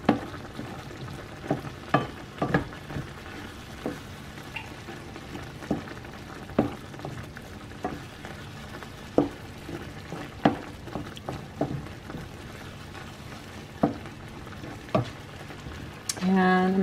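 Pork sausage gravy bubbling in a hot pan while a utensil stirs it, sharp clicks and scrapes against the pan recurring every second or two over a soft, continuous simmering sizzle, close by.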